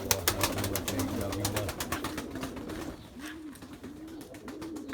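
Flying play pigeons coo in repeated rolling phrases, close by, over a background of scattered clicks and faint rustling, with occasional voices nearby.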